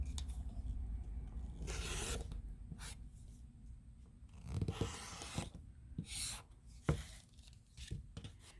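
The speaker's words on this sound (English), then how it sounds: "So I'm going to trim the outside edge." Quilting fabric is trimmed along its outside edge with a cutter, giving faint, close scraping and slicing strokes in irregular bursts with small taps in between, all quiet.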